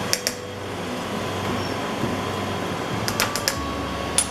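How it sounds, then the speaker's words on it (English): A household vacuum cleaner runs somewhere in the background, a steady, moderate whooshing hum that continues without a break, with a few faint clicks on top. "So when the vacuum is going, she does not care for it."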